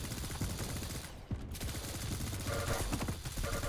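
Rapid automatic gunfire and explosive weapon blasts from the arena shooter Quake Champions, dense and continuous with overlapping bursts and no pauses.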